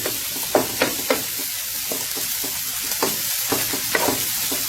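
Eggs frying with fried rice in a hot pan, a constant close hiss with scattered spatula taps and scrapes, no talking.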